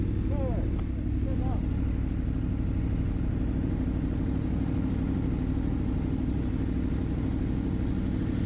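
Steady roar of nearby freeway traffic, a dense rumbling wash of passing cars that holds continuously throughout, with a few faint chirps near the start.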